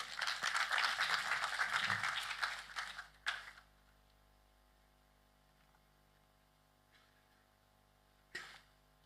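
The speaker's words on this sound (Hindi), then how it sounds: "जोरदार तालियों से स्वागत कीजिए" Audience at a formal valedictory session applauding to welcome a minister to the podium, a dense burst of clapping for about three seconds that fades out, followed by near silence with a couple of faint stray claps.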